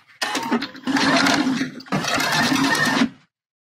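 A sewing machine stitches a seam on bra fabric in three close, steady whirring runs separated by brief pauses, loud and mechanical with no voices.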